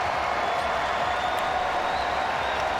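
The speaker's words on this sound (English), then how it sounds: "And a fine hand from the fans here in Portland." Basketball fans in a Portland arena applaud steadily at the end of the last regular-season game of 2022-23, a dense, even wash of clapping and crowd noise that holds at full level throughout.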